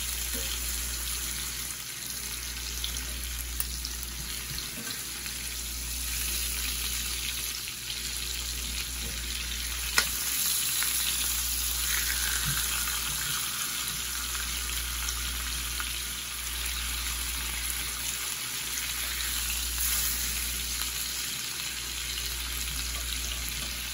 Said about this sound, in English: Looking for that sear, that nice crusty sear on the outside.